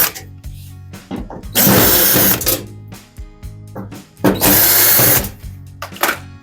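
A power drill backs screws out of a Samsung WF0700NCW washing machine in loud, close bursts of whirring with short pauses between them. Two longer runs stand out, alongside clicks and handling clatter.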